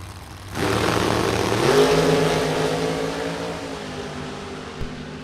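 A dragster roars off the line at a Firecracker Bracket Nationals drag strip, its engine bursting in loud and holding a broad, steady roar that slowly fades as it pulls away.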